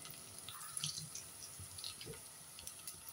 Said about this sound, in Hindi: थोड़ा सा पानी डालती हूँ ताकि मसाला जले नहीं